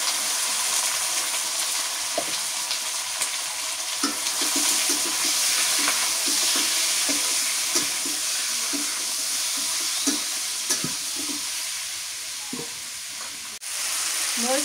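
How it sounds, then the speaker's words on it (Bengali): Chicken meat frying with browned onions in a pan as a pumpkin-and-chicken curry gets started, a steady close sizzle with scattered scraping stir clicks throughout and no talking. "পেঁয়াজ ভাজা হয়ে গেছে, এবার মাংস দিয়ে দিই।"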